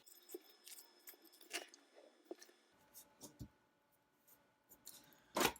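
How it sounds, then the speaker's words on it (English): Scissors snip a paper tree branch in a crafting planner, a series of short, close, crisp cuts in irregular rhythm, quiet overall with one louder snip at the end. "And then I'm going to cut this tree branch off."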